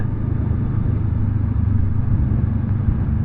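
A Honda CL500 motorcycle rides steadily at about 50 km/h, its engine giving a continuous low rumble mixed with wind and road noise, with no voices.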